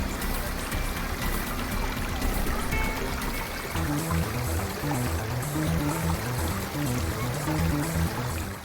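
Water rushing through the lower section of the Petrohué waterfalls in Chile, where massive rock formations calm the flow; a steady, dense roar fills the whole stretch without a break.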